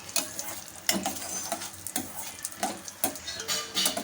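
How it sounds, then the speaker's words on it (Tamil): Cashews, raisins and almonds fry in hot ghee with a steady, bright sizzle, punctuated by regular scraping strokes of a spoon stirring the pan, close up and with no talking. "இப்போ இது எல்லாத்தையும் சேர்த்துட்டு நல்லா ஃப்ரை பண்ணிக்கோங்க முந்திரி திராட்சை பாதாம் எல்லாமே நல்லா வறுபட்டு வரணும்"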